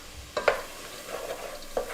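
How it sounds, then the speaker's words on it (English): Celery and onions sautéing in a pan, a brief stretch of quiet sizzling with a few sharp spatula clicks and scrapes, close and fairly soft. "So what I'm doing is sauteing this celery and these onions right here, right?"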